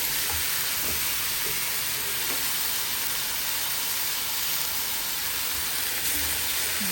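Small shrimp cooking in a hot pan for shrimp bharta, giving a dense, even hiss of steam and sizzle that holds steady and loud, with only a few faint stirring knocks beneath.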